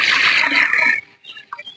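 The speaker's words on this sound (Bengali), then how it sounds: "এবারে আমি দুধটা ঢেলে দেব।" Milk poured into a cooking pot for payesh, a bright close gush of liquid for about a second that stops abruptly, leaving faint small clinks.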